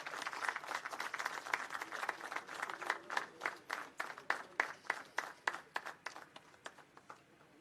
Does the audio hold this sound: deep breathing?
no